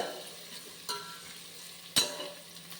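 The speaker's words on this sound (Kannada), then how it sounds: "ಇದನ್ನು ಇವಾಗ ಗೋಲ್ಡನ್ ಬ್ರೌನ್ ಆಗೋವರೆಗೂ ಹುರ್ಕೊಳ್ಳೋಣ. ನೀಟಾಗಿ ಫ್ರೈ ಮಾಡ್ಕೊಳ್ಳೋಣ." A soft, faint frying hiss from a pan of fenugreek rice in the making, with two sharp clinks of a stirring spoon against the pan rising above the quiet sizzle.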